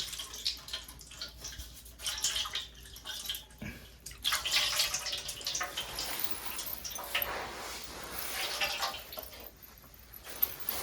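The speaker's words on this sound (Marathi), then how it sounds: "बघा थोडा आता मी हात थोडा धुतो, साफ करून घेतो." Hands are washed under running water, with uneven splashing and trickling in bursts, some louder surges and brief drips, fairly close and without speech.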